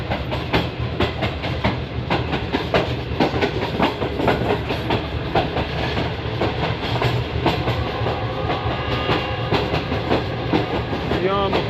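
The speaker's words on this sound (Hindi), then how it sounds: "अब ये स्पीड पकड़ रही है हमारी ट्रेन" A passenger train on a Rawalpindi journey picks up speed, with a dense, steady rumble and rapid rhythmic clickety-clack of wheels on rail joints, heard close from onboard.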